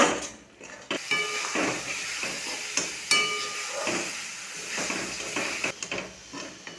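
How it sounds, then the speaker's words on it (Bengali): Ground spices, chili powder and sugar being stirred in a frying pan for a pointed gourd coconut curry: metal utensil clinks and scrapes against the pan over a soft, steady sizzle, with irregular knocks throughout. "সমস্ত কিছু দেওয়ার পর খুব ভালো করে মিশিয়ে নেব, বেশ কিছুক্ষণ নাড়াচাড়া করে নেব।"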